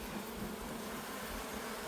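Honeybees buzz around a beekeeper installing nucleus colonies outdoors, a faint, continuous drone of wings close by with no talking.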